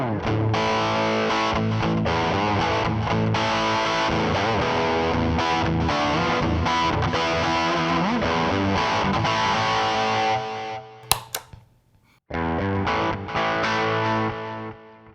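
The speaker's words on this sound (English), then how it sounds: "Let's see what happens when I turn on the boost." Electric guitar played with a light distortion tone through a Salem Boost pedal with the boost engaged, dense sustained chords ringing loud and steady, then a brief drop and a few picked notes before heavier playing resumes.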